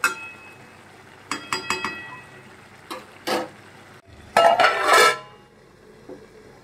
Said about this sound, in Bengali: এবার আমি একটু এটাকে হালকা করে ঢাকা দিয়ে দেব।